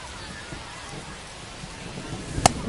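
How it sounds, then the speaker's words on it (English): Rain pours down steadily during a minor-league baseball game in MLB The Show 25, a soft continuous hiss at moderate level with a brief sharp click near the end. "We're coming right up against it with the way this rain is coming down."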